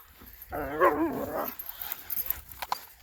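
A dog lets out a brief, close whining bark-like vocalisation, followed by faint rustling and small movement sounds outdoors.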